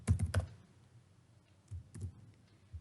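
A short flurry of computer keyboard typing as a string is entered, a quick cluster of clacks at the start, then a pause and a few more scattered keystrokes, close and clear with no talking.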